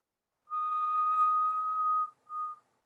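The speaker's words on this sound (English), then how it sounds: "Inhale, make the high-pitched whistle." A breathing exercise with a steady high-pitched whistle through pursed lips, held for about a second and a half, then a short second whistle, clean and close with no talk.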